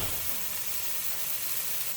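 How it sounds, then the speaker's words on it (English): Lamb sears in a hot pan for a Lamb Wellington, with a loud, steady, crackling sizzle close by. "So you're not cooking it right now, you're just searing it."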